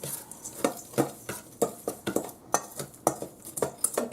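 A homemade chicken patty mixture with seasonings, panko and flour is mixed in a bowl, giving a close, rhythmic series of soft scraping and clinking strokes at a steady pace, faint, with no talking.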